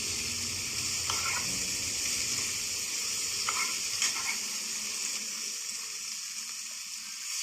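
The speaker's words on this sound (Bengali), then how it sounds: "সামান্য পরিমাণে জল অ্যাড করে নিলাম" Water poured into a pan of frying spices, ground chilli and fried potatoes for a katla fish curry gives a steady, close sizzle and hiss, with a few brief splashy bursts and no talking.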